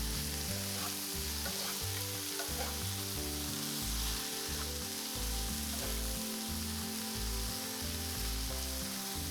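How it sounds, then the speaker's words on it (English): Spiced green beans fry in a pan with a constant loud sizzle while they are stirred, giving faint scraping strokes. The sound is close and continuous, with no talking. "we're going to mix that around, trying to incorporate all of the spices on as much of the green beans as possible"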